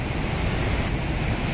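A waterfall in the Karen region of Myanmar gives off a dense, steady rushing roar, constant and loud throughout, with no voices.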